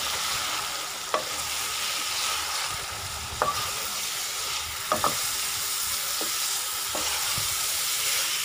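Moong lentils are stirred into chicken sizzling in a pan for chicken dal moong. A steady frying hiss runs throughout, with several sharp spoon scrapes and clinks at irregular intervals.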